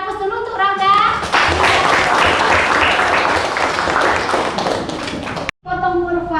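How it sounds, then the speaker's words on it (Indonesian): A classroom claps for a student named Rauda, a sustained burst of dense applause lasting several seconds. A voice talks briefly before and after. "Kita berikan aplaus dulu untuk Rauda."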